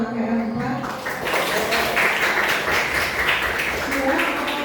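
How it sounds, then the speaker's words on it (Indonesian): Applause from a school audience at an arts performance for the class group KKR 4, a brief burst of clapping heard with crowd noise. "Sekali lagi tepuk tangan buat KKR 4"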